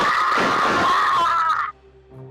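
Human voice imitating a creature screaming in pain during a D&D game: one loud, drawn-out strained shriek lasting about a second and a half, cut off abruptly, followed by a faint low groan.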